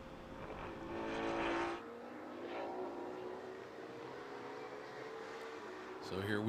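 A Mustang GT4 race car accelerates hard on the circuit at COTA, its rising engine note loud and close and then easing off, with a commentator talking over it throughout.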